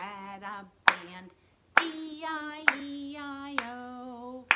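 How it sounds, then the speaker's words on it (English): Hands clap sharply along with a singer performing Old MacDonald for children, a handful of crisp claps landing between sung notes, the singing voice carrying the tune loudly over the beat. "All right, we're gonna clap."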